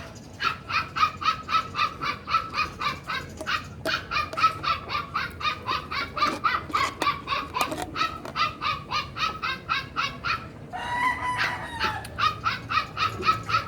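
A small dog yaps in rapid, steady bursts, a long run of high-pitched barks at moderate distance, briefly broken by a different yelp.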